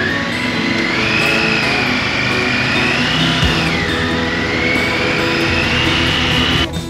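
A Honda CB500X motorcycle cruising along a highway in Utah, its engine note a steady droning whine that rises and dips slightly with throttle, mixed with continuous wind roar, close and loud with no talking.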